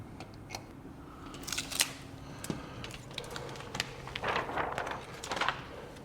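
Hand-cut window tint film on a car door being trimmed on a peel board, with soft intermittent snips and slicing scrapes, faint and close, with no talk.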